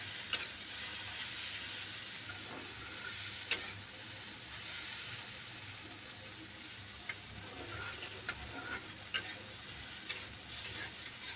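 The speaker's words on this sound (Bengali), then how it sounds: "আলুগুলো দিয়ে দিচ্ছি, আলু সয়াবিন দিয়ে একটু নাড়তে হবে ভালো করে। অল্প তেল দিয়ে রান্না করছি" Potatoes and soybean chunks fry in a little oil, giving a steady, soft sizzle with scattered scraping clicks as they are stirred.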